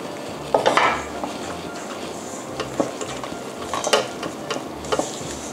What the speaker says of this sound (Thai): แล้วทีนี้เราก็ผสมให้ส่วนผสมเข้ากันก่อนนะคะก็คือแป้ง3ชนิด